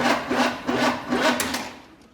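A 1984 Chevy Blazer engine cranks over on its starter in a steady, rhythmic churn of repeated pulses with a faint whine beneath, close and fairly loud, fading out near the end with no talking.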